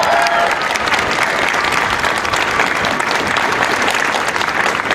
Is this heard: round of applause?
yes